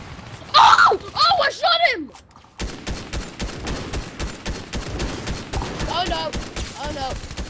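Rapid bursts of gunfire in the video game Fortnite, a loud volley near the start then a steady stream of shots and game effects, with a player's excited voice over the first part.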